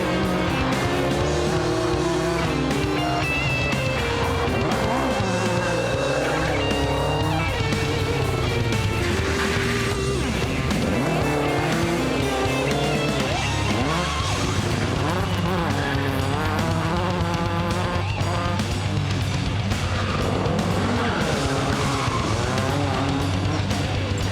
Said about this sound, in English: Watch the power slides and handbrake turns in the little Escort.